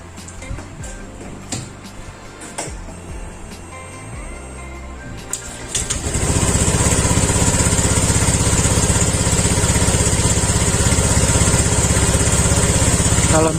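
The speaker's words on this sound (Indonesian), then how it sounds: "makanya kita coba hidupin dulu motornya" A Honda Vario 125 scooter is started after a coolant change, with quiet clicks and shuffling at first, then the engine catches around six seconds and settles into a steady, loud, close idle.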